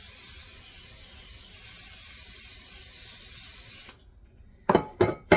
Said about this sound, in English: Then you're going to grease up your bread pan.